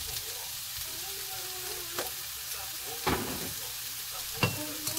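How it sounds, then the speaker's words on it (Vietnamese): Potatoes stir-fry in a pan Korean-style with seasoning, a steady quiet sizzle broken by a few soft clacks of the spatula, with no talking. "Bây giờ thì mình sẽ xào đều lên."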